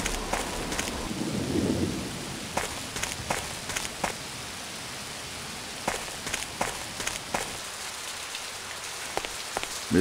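A thunderstorm rages in an Agatha Christie mystery video game, with heavy rain hissing steadily on surfaces, a low rumble of thunder early on, and scattered sharp taps like footsteps or drips throughout. There is no talking.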